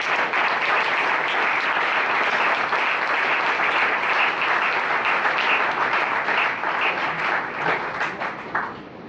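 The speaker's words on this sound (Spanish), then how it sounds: "Den un aplauso fuerte al Señor." A church congregation claps for the Lord in one loud, sustained burst of applause that runs dense and steady for about nine seconds, then thins slightly at the end.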